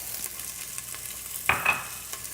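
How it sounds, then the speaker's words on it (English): Onions going into hot oil on a stovetop, with a burst of sizzling about midway that then fades. Stirring and a faint background hiss carry on throughout. "We'll start with a little oil for sauteing. And then I will throw in onions,"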